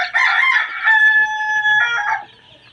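Egyptian Fayoumi chickens crowing loudly and close by, with a sustained rooster call and overlapping clucks, alone without talk.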